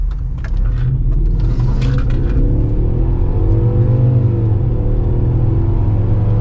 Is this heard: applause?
no